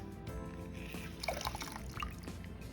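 Lime juice and apple cider vinegar poured into a pot of crushed tomatoes for a guava BBQ sauce, giving a soft, faint trickle and drip of liquid that runs steadily throughout.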